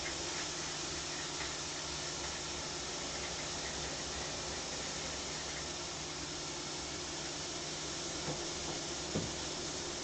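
Steak searing in a hot pan gives off a steady, dense sizzle that holds evenly throughout, with a faint low hum beneath it and no voices.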